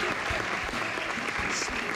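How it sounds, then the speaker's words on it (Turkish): Applause breaks out at a stage show, a dense continuous patter of many hands with some voices mixed in, steady and fairly loud throughout the short burst. "Evet, alkış."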